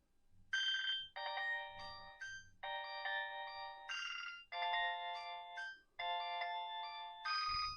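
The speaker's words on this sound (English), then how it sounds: "It vibrates with the ringtone." A polyphonic ringtone from a Nokia 6220 mobile phone plays a bright, multi-note melody in repeated short phrases, fairly close but quiet, with a faint low buzz of the handset vibrating alongside.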